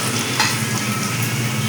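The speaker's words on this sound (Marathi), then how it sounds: "मस्तपैकी मिक्स करून घ्या." A dish with mustard seeds and turmeric stirred in a pan, with a steady close sizzle of frying and soft scraping strokes throughout the short stretch.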